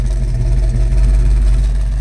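A 1976 Pontiac Trans Am idles through its splitter exhaust, a steady, loud, deep rumble heard close up and alone, with no voices.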